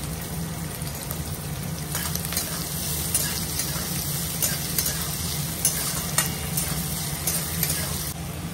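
Green beans fry in a pan for a home-cooked dinner, giving a steady, loud sizzle with scraping stirring sounds throughout and no voices.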